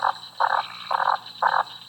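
A leopard frog gives the first part of its two-part call: four evenly spaced, rasping croaks, loud and near, over a faint steady background chorus.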